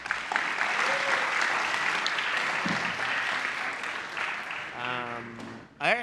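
A room full of people claps for the coaches in a steady round of applause that tapers off, as a voice starts speaking over the fading clapping just before the end.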